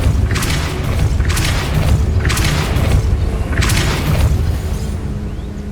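A Depulso spell cast in the game Hogwarts Legacy, heard as four loud, evenly spaced whooshing bursts with booming low thuds, each about a second long, over a dense rumbling background.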